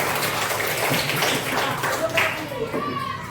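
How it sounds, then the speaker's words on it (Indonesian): Children in a primary-school classroom clap together after a lesson on simple electric circuits, a dense steady patter of many small hands with kids' voices mixed in. "Berikan tepuk tangan."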